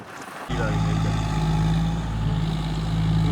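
A John Deere tractor engine cuts in after a brief pause and runs at a loud, steady idle-like drone with a deep rumble, heard close up during a test.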